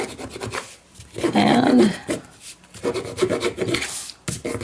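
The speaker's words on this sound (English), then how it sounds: "rub that stitching down so it lies nicer" A bone folder rubs firmly down over the stitching of a handmade journal, a dry rasping scrape in a couple of bursts, close and fairly loud, with a single spoken word nearby.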